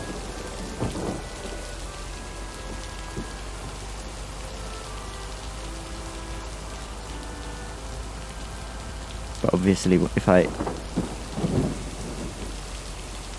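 Steady, dense rain hisses alongside low rumbling thunder in a video game storm, continuous throughout, with a voice talking briefly over it near the end.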